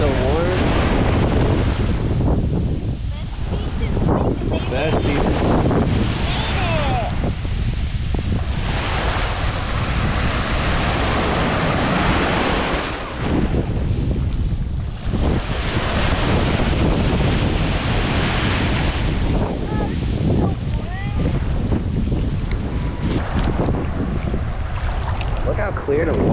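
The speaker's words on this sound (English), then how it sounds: "Best beach in Jamaica, Negril. It's the number one beach." Warm-water surf at Negril beach in Jamaica, with a steady, loud wash of breaking waves mixed with heavy wind buffeting the microphone throughout, and no clear voices over it.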